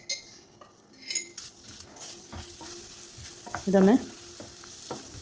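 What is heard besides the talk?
stirring banana pieces in ghee in a pan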